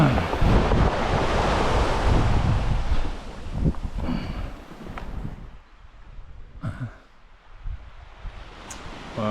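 Wind gusting over the sea at Bossington, North Somerset, at low water, with surf washing in beneath it; loud blustery rush at first, easing into quieter lapping with a few brief knocks and scrapes nearby.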